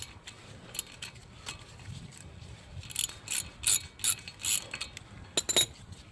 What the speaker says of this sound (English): we got our Allen or hex 5mm. Just gonna get this screw.